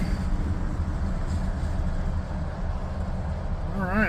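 CSX freight train rolling past at night in high winds and rain, a steady low rumble of wheels and cars, with a short whistling tone near the end.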